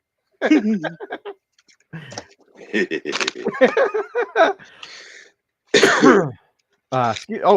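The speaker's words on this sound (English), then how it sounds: "We both coughed at the same time." Two people cough in quick succession, loud and close, amid chatter and brief gaps of silence.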